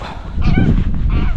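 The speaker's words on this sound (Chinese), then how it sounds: "又有一只大鹅，吓我一跳。" A large domestic goose on an Arctic island honks loudly and close, giving a short cluster of nasal calls.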